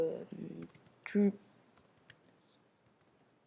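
Computer keyboard typing, with a short run of light, sharp key clicks scattered across a few seconds, close and crisp, with brief bits of a voice at the start.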